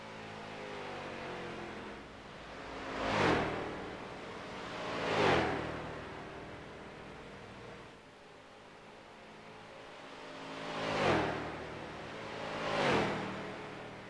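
Stock race cars at Darlington in a racing game sweep past one after another, four distinct engine roars swelling and fading over a steady background hum.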